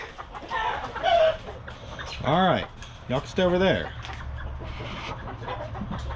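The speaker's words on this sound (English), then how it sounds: "Chickens, man, chickens." Chickens cluck and squawk nearby in short bursts while someone talks over them.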